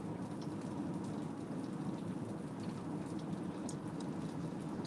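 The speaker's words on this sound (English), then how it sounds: "It's pouring rain." Heavy rain pours down steadily and loudly, a dense, continuous wash of drops drumming on surfaces close by with no pauses and no voices.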